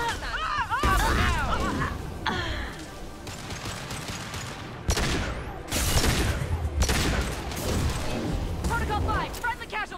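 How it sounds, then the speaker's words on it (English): Missile barrages and gunfire in the video game Mass Effect 2, a dense run of loud booms, blasts and crashing explosions with sustained battle noise and occasional voice. "Missiles."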